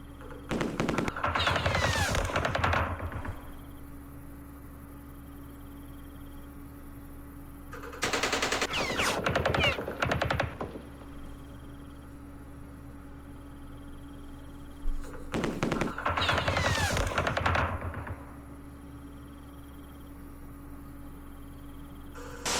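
Machine gun fire in the Vietnam war game Campaign Series Vietnam, three separate bursts of rapid crackling shots a few seconds apart, each lasting about two to three seconds, over a quiet steady background hum.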